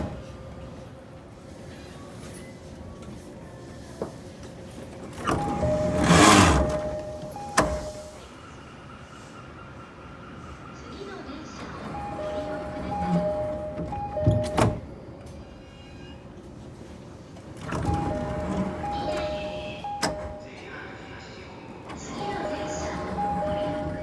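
JR Sōbu Rapid and Yokosuka Line E217 series train with a faulty door engine, making a groaning whine as the doors move, recurring several times over quiet station ambience with faint announcements.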